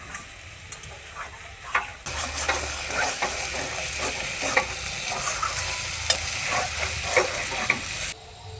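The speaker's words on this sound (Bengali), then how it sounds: "আলুটাকে আমি কষিয়ে নেব।" Potatoes sauté in poppy seed and cashew paste in a pan, giving a continuous close sizzle under repeated scraping stirs for about six seconds before the sound cuts back to quiet.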